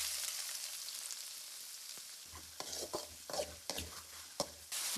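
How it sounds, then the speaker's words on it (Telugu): Sliced onions frying in oil in a kadai, steady sizzling hiss with intermittent scraping stirs of a spoon against the pan, close and fairly loud. "ఇప్పుడు కళాయిలో ఆయిల్ పోసుకుందాం. ఉల్లిపాయ వేసుకుందాం."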